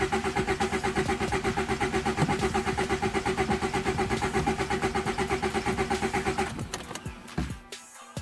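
A turbocharged Honda Civic with a D16Z6 engine cranks over and over without catching, a fast rhythmic starter churn that runs for several seconds and then stops abruptly.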